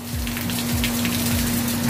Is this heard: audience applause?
no